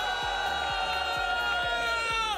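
Fans at an RLCS World Championship Rocket League watch party roar and cheer together, a dense continuous crowd din with rhythmic thumping underneath, sustained at steady loudness throughout.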